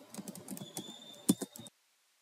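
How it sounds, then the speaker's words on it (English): Fingers typing an email address on a computer keyboard, a quick run of soft close clicks with one heavier keystroke near the end, then silence. "And then type in your email address."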